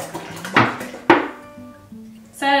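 A clean cooking pot, about to be filled with a gallon of milk, is handled on a kitchen surface: several close metallic knocks and clanks ring out, the loudest sharp and resonant, with a brief ringing tone at the end.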